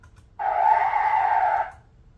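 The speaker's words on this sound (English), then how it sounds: "it gives you a little brake sound" ESS Dual+ engine sound simulator producing a synthetic car brake sound, a single steady screeching tone lasting just over a second, clean and alone against near silence.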